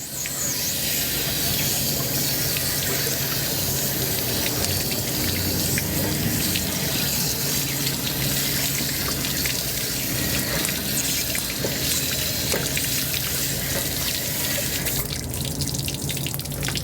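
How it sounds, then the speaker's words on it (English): Water rushes steadily from a flushing wand into a Suburban RV hot water tank, a continuous loud gushing and splashing that holds for the whole stretch without talk. "I'm just going to put my wand into the tank and give it a good flush one more time."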